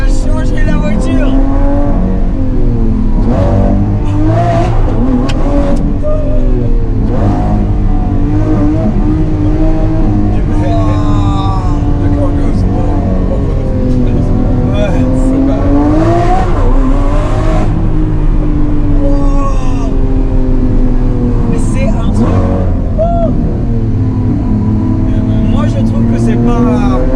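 Lamborghini Aventador SVJ with a new exhaust line, its engine roaring loud and near, rising and falling through revs over nearly half a minute, with people talking throughout.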